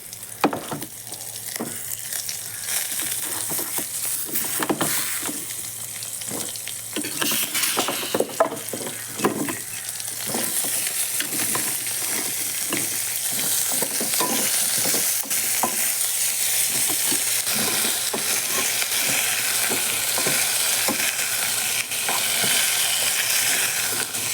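Onions, garlic, asafoetida and pumpkin pieces stirred together in a pan, with steady sizzling frying and repeated scraping and clinking of a ladle against the metal, close and continuous with no talk.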